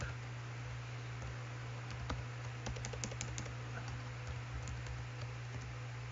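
HTML code being typed on a computer keyboard, a quick irregular run of light clicking keystrokes over a steady low electrical hum, close and fairly quiet.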